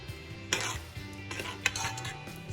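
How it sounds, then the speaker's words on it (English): A spoon stirs spaghetti meat sauce in a pot, with soft scraping and a few clinks against the metal and a faint simmer underneath, close and fairly quiet. "I'm gonna give it a big stir"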